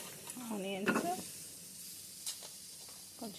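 Onions and coconut fry in hot oil with a soft continuous sizzle and hiss, broken by a few stirring clatters, while someone talks over it.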